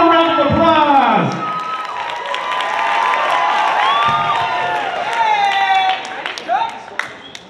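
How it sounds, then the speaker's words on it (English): An audience at a Denver salsa and bachata congress claps, whoops and cheers for a dance team, with dense overlapping shouts and applause alongside an announcer's voice and music tones. "Give them a round of applause."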